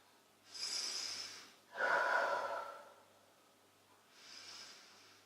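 Three forceful exhalations during a Pilates exercise, each lasting about a second, separated by short pauses, close and clear with no talking.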